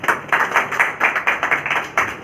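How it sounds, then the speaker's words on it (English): Applause for invited guests at an International Women's Day celebration, heard as a run of distinct, fairly loud claps in an uneven rhythm, sparse rather than a full crowd roar. "Can we have a huge round of applause, please?"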